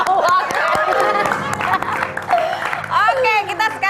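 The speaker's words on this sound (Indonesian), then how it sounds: "Tepuk tangan dulu dong." A studio audience on an Indonesian TV gossip show bursts into brief applause and cheering, dense clapping mixed with crowd noise, while a host's voice runs over it.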